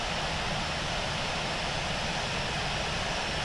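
An airliner taxis to parking at Sydney Kingsford Smith airport in the Infinite Flight simulator game, its engines giving a continuous, even jet whine and roar that stays steady and fairly quiet throughout.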